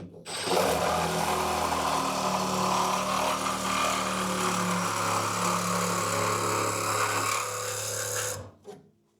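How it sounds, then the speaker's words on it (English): A Sawzall reciprocating saw cuts a weld loose in a hybrid electric trawler's engine room, a loud, steady, harsh buzzing rasp that runs close and continuous for about eight seconds before cutting off abruptly. "You guys know how much I love my Sawzall."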